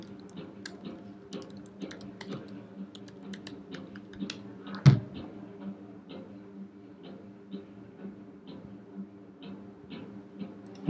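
Computer keyboard keys clatter in a steady stream of light, close clicks as an email address is typed, with one sharper knock midway over a faint low hum.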